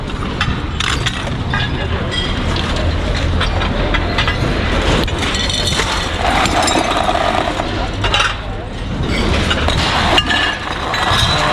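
Glass bottles and jars clinking and shattering while someone digs through a dumpster, with repeated sharp clinks and crashes over constant rustling, and voices talking nearby.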